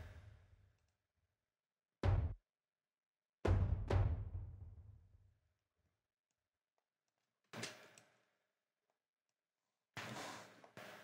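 Deep cinematic toms from the Kontakt Action Strikes library, shaped with EQ, land as a few heavy booming hits with long decaying rumbles and silent gaps between them, later followed by brighter, noisier bursts, with no talking.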